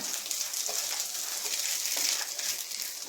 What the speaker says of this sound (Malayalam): ഇതൊന്ന് ഫ്രൈ ആയി വരട്ടെ നമ്മുടെ സോയാബീനൊക്കെ ഫ്രൈ ആയിട്ട് വന്നിട്ടുണ്ട്